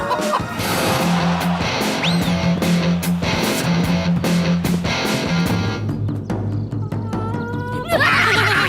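A cartoon horse neighs and whinnies amid a dense bed of music and sound effects, loud and continuous, with a brief crashing burst near the end.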